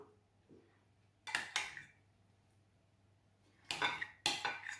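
Solidified apple cinnamon soap is spooned on, with a few close scraping, clattering spoon strokes in two short bursts, separated by quiet pauses.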